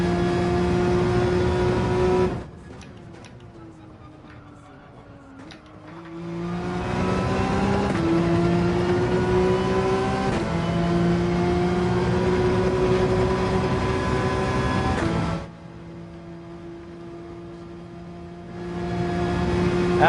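A Porsche 911 race car engine in Gran Turismo 7 drones loudly and steadily, with rising revs, brief drops as gears shift and the throttle lifts, then the engine pulls hard again through a lap.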